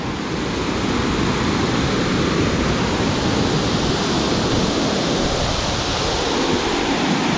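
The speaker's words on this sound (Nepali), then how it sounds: "यहाँ रहेछ दामी झरना" Bhangge waterfall in Rasuwa, Nepal, roars with a loud, unbroken broadband rush of falling water, close and constant throughout, with some wind buffeting the microphone.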